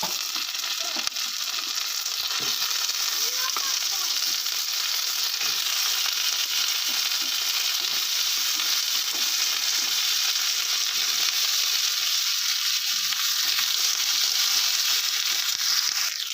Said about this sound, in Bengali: এবার আমি কেটে রাখা আলুটা দিয়ে দেবো